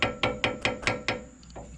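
A loose, deteriorated lower sway bar end link on a Crown Victoria front end clunks over bumps: six sharp, evenly spaced metallic knocks about a quarter second apart, close and fairly loud, then a couple of fainter taps.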